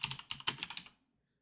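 Quick bursts of typing on a computer keyboard, around ten close, crisp key clicks in an even rhythm that stop abruptly and leave silence.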